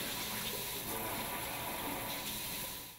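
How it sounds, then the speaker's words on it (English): Steady water rushing from the spray and stream wand of a pull-down Pilar kitchen faucet with Touch 2.0 technology, a continuous close hiss with no talk, tapering slightly at the end. "Test the spray and stream modes of the wand."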